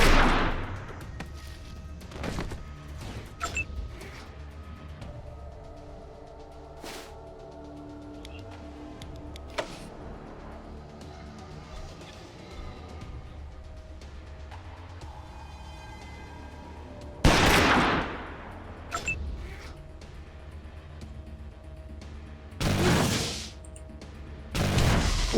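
Gunfire from the turn-based game Wasteland 2, a few sharp shot bursts standing out loudly against quieter game ambience and ticking, with the heaviest blasts near the end.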